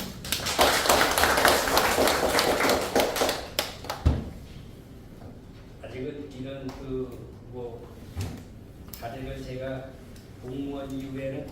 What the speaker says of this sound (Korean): 큰 박수로 청해 듣겠습니다